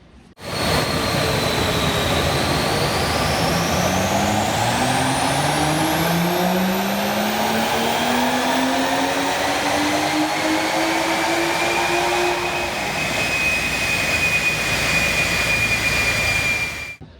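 A loud, modified BMW M140i B58 straight-six single-turbo engine revs up, its tone rising steadily under acceleration with a turbo whine, then easing off near the end.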